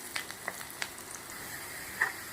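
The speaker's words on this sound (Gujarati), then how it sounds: "ગુલાબી કલરની થાય ત્યાર સુધી આપણે ડુંગળીને શેકી લઈશું." Onions fry in a pan for garlic chilli fried rice, a soft steady sizzle with faint scattered crackles and a few light stirring clicks.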